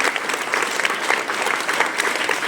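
Steady, dense applause from a school audience at an investiture ceremony, honouring the Blue House captain boy and girl; loud, continuous clapping throughout with no voices on top.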